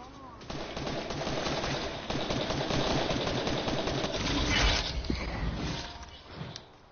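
A heavy AK rifle in a video game fires in long, dense automatic bursts that run almost without pause and stay loud and close. A brief lull comes near the end, and a voice may be faintly mixed in.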